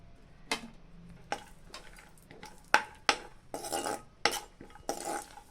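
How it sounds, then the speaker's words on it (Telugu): Cashews, almonds and raisins being roasted in a little ghee in a pan, heard as a run of sharp spoon-on-metal scrapes and clinks at close range, growing busier toward the end, with no talk. "ఇందులో డ్రై ఫ్రూట్స్ వేసి దోరగా వేయించుకోవాలి"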